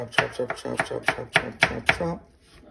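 A kitchen knife chops carrots on a cutting board in a quick, even run of about seven sharp close taps, each followed by a short scrape, then silence.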